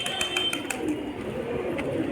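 Pigeons in a pigeon fancier's flock in Bhopal, with soft coos and bird calls rising among flutters and faint background noise, steady and close, with no speech.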